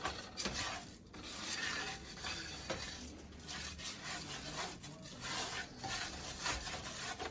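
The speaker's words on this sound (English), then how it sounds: "We're going to scrape the bottom of this so this here can just go ahead on and fry up." Scraping the bottom of a skillet during a one-pan chicken and rice meal, a continuous close rough scraping and rubbing with uneven strokes and faint sizzling underneath, no talking.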